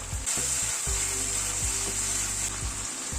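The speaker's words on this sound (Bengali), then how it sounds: "কাজু আর পোস্ত বাটাটা দিয়ে আরো মিনিট 2-3 একটু কষিয়ে নিলাম।" Cashew and poppy seed paste masala frying in a pan for a vegetarian kofta curry, giving a steady soft sizzle with a few light stirring scrapes, close and fairly quiet throughout.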